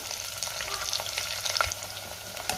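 Vertically sliced onion sizzles in hot oil with whole spices, cardamom, bay leaves and curry leaves, a steady close crackle with occasional stirring scrapes.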